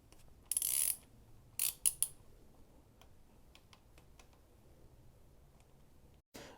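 Ratchet turning with a Torx T50 bit to loosen the rear valve-cover mounting bolt on a BMW R1250GS motorcycle, a few short bursts of fast ratcheting clicks up close, then faint ticks and quiet pauses.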